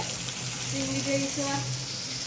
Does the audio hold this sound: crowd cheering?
no